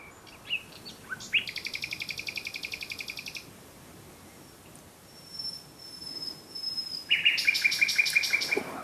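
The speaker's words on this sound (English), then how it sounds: "No extraneous noises apart from the bird that I want, the nightingale." A nightingale sings in bursts of rapid repeated notes and trills, clear and fairly close, with quiet pauses between phrases.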